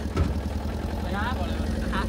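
A generator engine runs steadily at an outdoor setting in Odisha, a low continuous drone that stays under a voice talking throughout.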